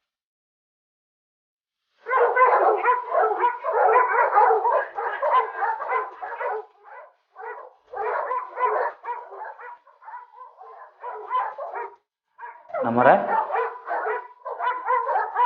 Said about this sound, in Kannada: ನಾಯಿಗಳು ಯಾಕೆ ಹಿಂಗೆ ಬೊಗಳ್ತಾವೆ?